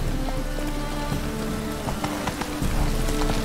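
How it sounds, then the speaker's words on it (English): Steady rain patters on surfaces in the fantasy video game The Witcher 3: a dense, even hiss of drops with a few brief louder taps, and no speech. "Rain again."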